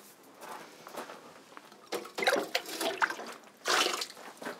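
Water is poured and sloshed into a container, a close series of irregular splashing and trickling bursts that grow more vigorous toward the end, with no talking.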